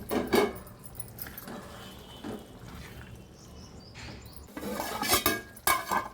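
A spoon stirs tamarind into a prawn and drumstick curry in a metal pot, making close clinks and scrapes in a few uneven bursts with soft quieter stretches between and no talking.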